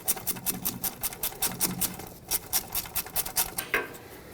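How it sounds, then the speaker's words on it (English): Socket wrench working a 12mm bolt loose on the steering knuckle of a Hyundai Sonata, a rapid run of close, crisp ratcheting clicks in a steady rhythm with a short pause midway. "we have to remove these with a socket, break this bolt free, and remove it the rest of the way"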